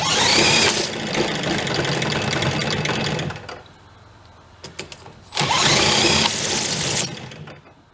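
A small outboard-type engine on a 7-foot boat, long abandoned on a farm, buzzes loudly at high revs, drops to a quieter idle for a couple of seconds with brief blips, then surges back up as the throttle lock is adjusted.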